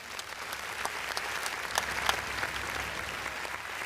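An audience at a live concert at the Baba Sheikh Farid Mela breaks into applause. The steady crowd clapping fills the clip with dense overlapping claps and a few sharper peaks.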